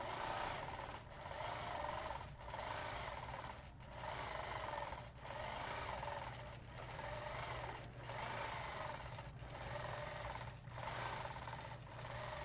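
A sewing machine stitches freehand circle quilting in bursts of rapid, even whirring, each run lasting about a second with short pauses between, repeating steadily at close range.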